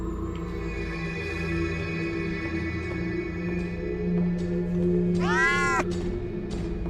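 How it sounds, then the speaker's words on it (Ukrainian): A single rising, wavering cat meow in a horror video game rings out over a steady electronic hum and background drone, lasting about a second. "Так, я чув кота."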